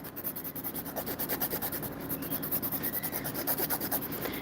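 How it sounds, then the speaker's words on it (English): A hand file rasps steadily against an acrylic nail while it is shaped and evened, a close, repetitive back-and-forth scraping in quick regular strokes. "once I'm done filing and shaping with the hand file"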